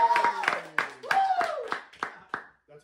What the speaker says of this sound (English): That's probably the second biggest applause I've ever had in a living room.